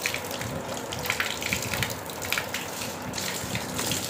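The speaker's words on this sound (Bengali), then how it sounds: "এখান থেকে আমি হাতটা ধুয়ে নিলাম।" A hand-washing tap at the Ramakrishna Math in Kakurgachi runs in a continuous gushing stream, splashing unevenly as hands are rinsed beneath it, close by with no talking.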